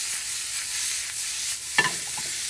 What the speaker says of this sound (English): You want to saute the vegetables until they're soft.